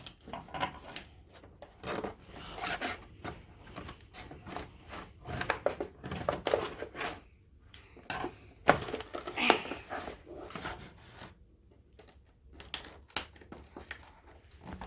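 LEGO toy packaging is cut and torn open close by, with irregular bursts of crinkling, tearing and scraping clatter mixed with handling noise over about fifteen seconds, rising and falling in intensity.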